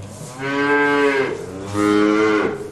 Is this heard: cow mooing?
yes